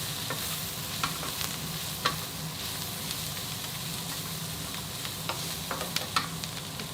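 Twice cooked pork sizzles and crackles in a hot pan while being stir-fried, a quiet, constant frying hiss punctuated by sharp clicks and scrapes of the utensil against the metal.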